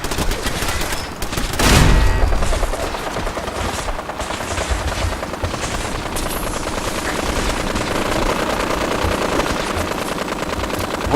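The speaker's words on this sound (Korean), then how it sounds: "누가 두두두두 소리 듣죠 누가 이렇게 시끄럽게 쏴" Automatic gunfire in Fallout 4: a continuous, loud stream of rapid shots rattles throughout, with a heavier blast near the start, no voices over it.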